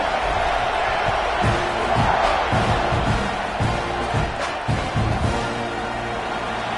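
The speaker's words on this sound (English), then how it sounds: "They're set to kick it off, and this crowd now ready to get behind them." A stadium crowd roars at a football kickoff between Texas A&M and Ohio State, loud and sustained, with rhythmic chanting pulses and whoops rising through the noise while a commentator talks over it.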